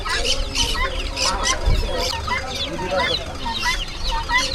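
Black Australorp chickens cluck and call in a busy flock at an agricultural fair in Lonand, with steady background noise and a brief low thump partway through.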